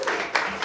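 Studio audience clapping for a contestant on a live comedy game show built around sobriety tests at Asylum NYC, brief and fairly loud with bursts swelling, a voice mixed in underneath.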